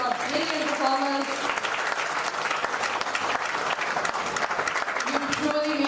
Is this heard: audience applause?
yes